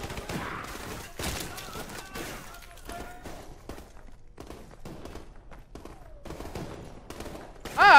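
Gunfire in Call of Duty 4 Modern Warfare Remastered: scattered bursts of shots and rattling volleys, some near and some distant, crack out irregularly over a busy battlefield backdrop.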